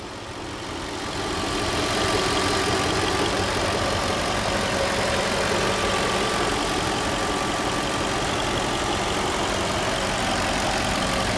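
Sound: V8 car engine idling

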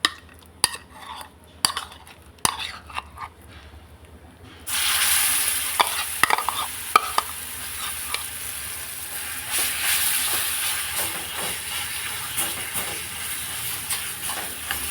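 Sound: chutney frying and being stirred in a pan

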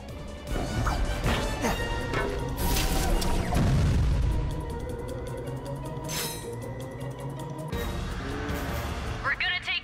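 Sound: cannon firing at warships in video game

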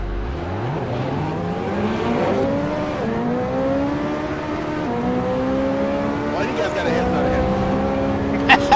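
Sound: race car start in video game Assetto Corsa, Pagani Zonda

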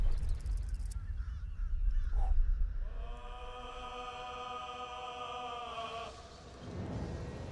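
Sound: birds in the video game Baldur's Gate 3

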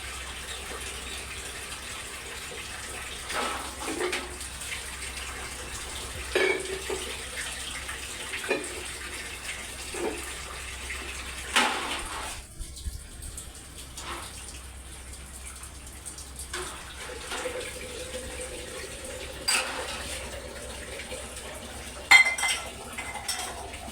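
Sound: washing dishes under running tap water

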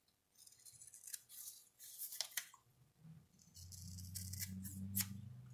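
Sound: scissors rounding off edges of kinesiology tape

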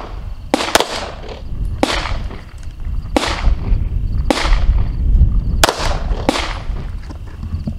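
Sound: gunshots fired from a handgun on a steady rest

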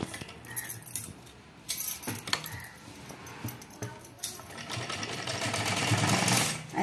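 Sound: sewing machine stitching a blouse neckline

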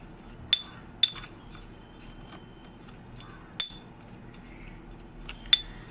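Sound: mixing coffee and sugar for face scrub in bowl

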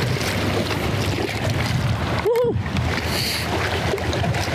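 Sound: wind noise on the microphone outdoors

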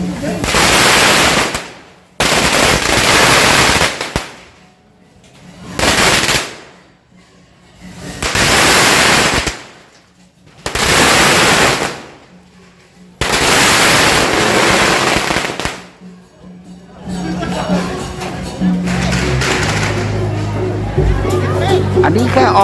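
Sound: firecrackers exploding at a temple festival procession

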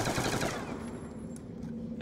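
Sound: gunfire from a gun in video game Call of Duty Black Ops 2

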